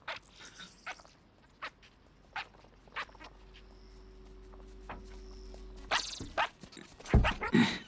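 Electronic barks from a robot dog in a Steam VR game on HTC Vive, heard as several short, sharp bursts spread over a quiet hum, followed by louder clattering and movement noise near the end.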